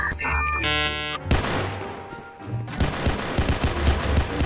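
Gunfire in the Roblox SCP game, with bursts of rapid shots crackling through a dense, loud mix after a short electronic chime at the start.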